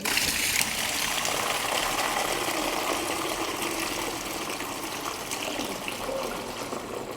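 Dirty water gushes steadily from a carpet cleaning machine, a continuous close rushing and splashing flow with no voices.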